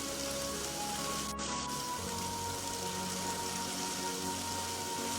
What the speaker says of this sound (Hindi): वो बिना रुके तेज बारिश में भीगते हुए जैसे तैसे अपने घर पहुंचता है।